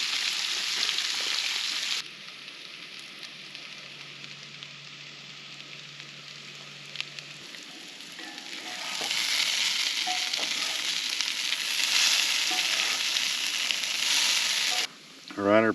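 Potatoes fry in bacon grease in a pan at a solo campsite, giving a close, continuous crackling sizzle that grows louder partway through and drops briefly near the end.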